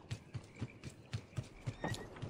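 Horse hooves in the video game Assassin's Creed 2 clop in a steady, even rhythm of about nine soft beats, moderately quiet with no speech.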